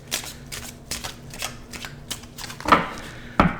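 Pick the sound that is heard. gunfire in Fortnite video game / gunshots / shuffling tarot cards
shuffling tarot cards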